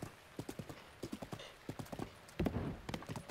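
Horse hooves clip-clopping in Zelda: Breath of the Wild, a steady trotting rhythm of distinct close hoof beats, briefly louder and busier near the end.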